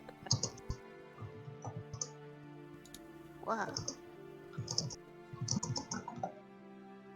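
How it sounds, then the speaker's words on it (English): Keys of a typewriter clack in short bursts of quick strikes, moderately close, with voices talking over and between the typing. "Daddy, did you get a typewriter?"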